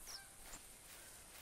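Geese honk faintly in The Hunter video game's Hirschfelden hunting reserve, with a couple of brief calls standing out over a steady ambient wash.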